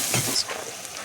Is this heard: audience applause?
no